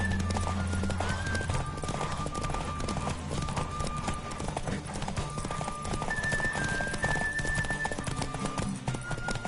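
Fast, continuous hoofbeats of a galloping horse in The Witcher 3 during a race, loud and close, layered over sustained music with a few high tones.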